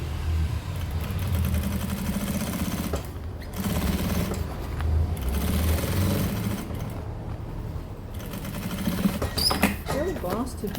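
A sewing machine runs steadily as it stitches a synthetic lining to the main fabric of a handmade toiletry bag, a continuous mechanical hum with short pauses, up close with no talking.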